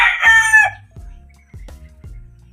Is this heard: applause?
no